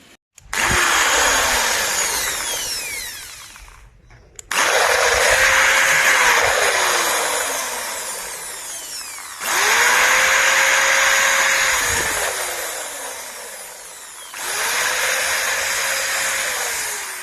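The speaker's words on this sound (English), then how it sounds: "for now we are going to use this drill machine" A power drill whirs in four long bursts drilling into plastic, each with a rising then falling pitch, separated by brief pauses; loud and close with no voices.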